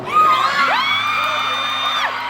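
Crowd at the Troxy concert venue in London, a loud sustained chorus of high whooping shouts and yells with rising and falling pitch, close and lively.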